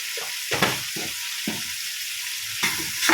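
Onions sizzling in a pan for ghee rice, a steady hiss broken by several scraping stirs and spatula knocks, close and alone.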